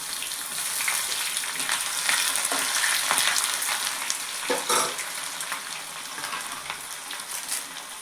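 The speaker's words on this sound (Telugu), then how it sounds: "ఇప్పుడు ఆయిల్ వేడెక్కింది కాబట్టి ఉల్లిపాయలు వేసుకుంటున్నాను." Onions dropped into hot oil frying, a dense continuous sizzle with faint crackles and a brief spatter burst midway, close and steady, with no talk.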